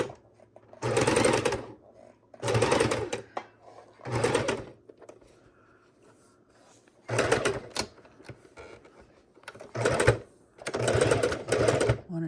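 A sewing machine stitching binding on a quilt buzzes in five or six loud, close bursts of about a second each, with quiet pauses and faint talk between runs.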